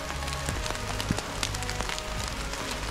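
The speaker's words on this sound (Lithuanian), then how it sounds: "Mes dabar įsimalę tarp debesų ir lietus dar labiau stiprėja." Heavy rain falls in the Austrian Alps, a dense, steady hiss of drops peppered with faint patters, heard alone at moderate volume.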